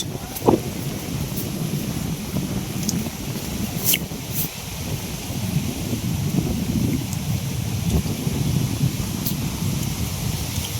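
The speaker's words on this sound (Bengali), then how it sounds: "আজকে বাতাস প্রচুর পরিমাণে" Strong wind blows in a constant roar across an open outdoor spot during a sudden storm, buffeting the microphone, with occasional faint clicks and rustles above it.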